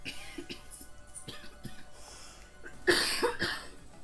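A burst of coughing, close and loud, comes near the end after a stretch of soft clicks and faint background sounds, during Kingdom Hearts II Final Mix gameplay.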